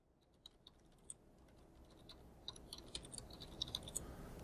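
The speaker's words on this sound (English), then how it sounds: "this is where you would type in your question" Rapid typing on a computer keyboard, a close run of light irregular key clicks that grows busier toward the end, with no voices.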